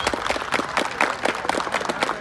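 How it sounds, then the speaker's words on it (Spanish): A crowd applauds at a tournament in Plaza Dos Hermanos, with steady, dense clapping that has a loose rhythmic pulse and carries on throughout, fairly close and loud. "Que se escuche el aplauso"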